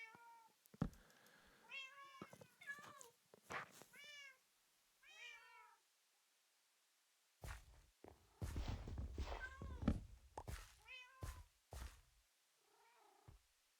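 A house cat meows repeatedly in short rising calls, some close and clear, with quiet gaps and a stretch of shuffling, rustling movement partway through; no talking.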